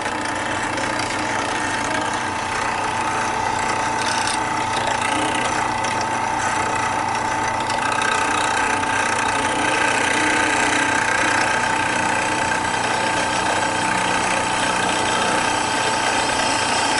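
A drill slowly bores a hole in a Solex 40 carburetor for a Chevette race engine, lubricated with WD-40, a steady mid-pitched whir with a faint tonal whine running continuously and alone.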